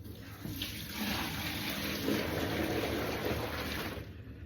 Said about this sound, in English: Empty this water.